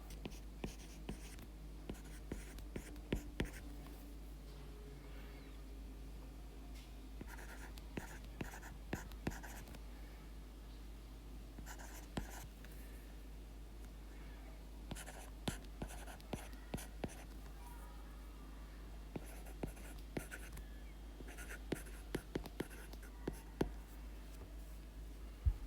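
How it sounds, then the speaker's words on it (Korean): Handwriting an answer, likely pen on paper, makes faint, scattered scratching strokes over a low steady hum, in quiet bursts of short marks with gaps between them. "그러면 이거를 이제 답을 한번 써볼게요."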